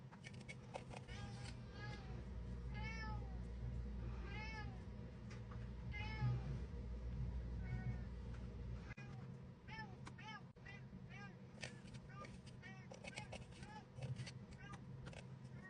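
A pet cat meows repeatedly in a kitchen, several distinct rising calls spaced across the stretch, fairly close, with a person's voice also heard.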